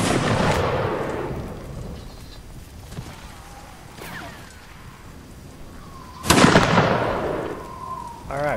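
Musket volleys in Mount and Blade: Napoleonic Wars during a line battle: a loud ragged volley of gunshots at the start, scattered distant pops in the middle, then another sharp loud volley near the end.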